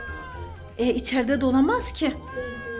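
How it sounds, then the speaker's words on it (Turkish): A cat meows indoors, a drawn-out wavering cry rising and falling mixed with a child's speech, close and fairly loud. "Nereden geliyor bu kedi sesi?"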